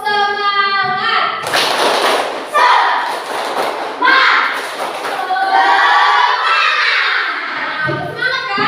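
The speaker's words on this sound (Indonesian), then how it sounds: "kita tepuk semangat dulu ya. Tepuk semangat." A class of children performs a rhythmic spirit-clap chant, with bursts of clapping and thumping mixed with their chanting voices, fairly loud and close throughout.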